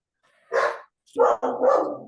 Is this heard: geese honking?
no